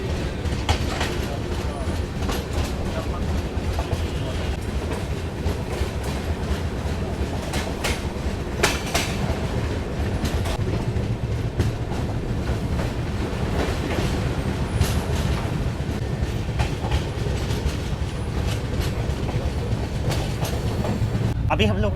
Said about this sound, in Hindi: Right now we are skipping Digwara railway station.